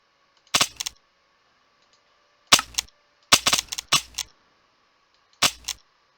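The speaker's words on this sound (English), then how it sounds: "Of course, this is an automatic weapon, so it'll keep firing." A video game's automatic weapon sound effect fires in short, sharp clusters of rapid bangs separated by silences, with a single burst, then two, then a quick triple volley and one more, crisp and close.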